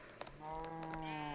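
A cow in the video game Magical Space Farm lets out a single drawn-out, bleating call that starts after a few quiet clicks and carries on steadily and softly to the end.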